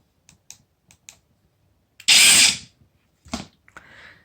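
A DeWalt drill driver whirs in one loud half-second burst as it drives a fastener, set between scattered small clicks and handling knocks, with a brief fainter rasp afterward.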